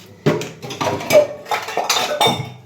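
Dishes and a tea pot being washed by hand, with repeated clanks and clinks of metal pots and utensils knocking together at close range in an irregular rhythm, no talking.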